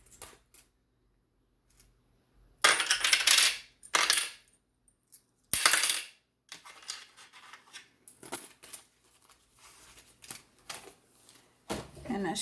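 Coins being dropped and handled while cash is sorted for a low-income budget, heard as bursts of metallic clinks and rattles separated by short pauses, close and fairly clear.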